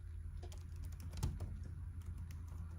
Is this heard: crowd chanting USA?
no